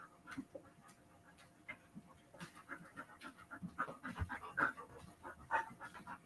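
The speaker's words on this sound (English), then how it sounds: "His dogs are getting riled up on me, Mike." Several dogs indoors pant rapidly and excitedly, a close, steady, breathy rhythm of quick huffs that grows busier toward the end, with occasional faint whines.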